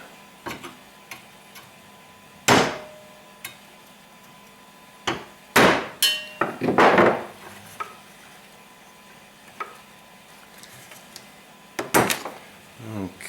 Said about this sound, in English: So I'm gonna start with a regular screwdriver to start moving this a little bit.